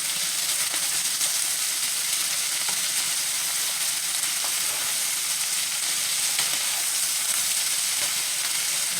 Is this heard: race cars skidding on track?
no